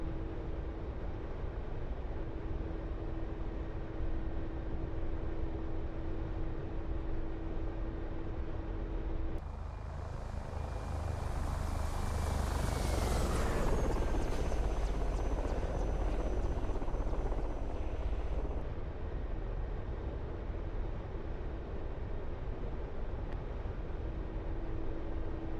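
An aircraft cruising in a flight-sim game during a Syria campaign, a steady loud engine drone and rushing hum that swells and brightens midway before settling back to an even roar, with no talk.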